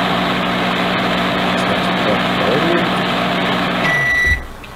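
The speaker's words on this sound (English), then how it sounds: "Garlic pizza rolls. Just microwave them for a few minutes." A microwave oven in a video game heating garlic pizza rolls, a loud steady hum that runs continuously and then stops with a short beep.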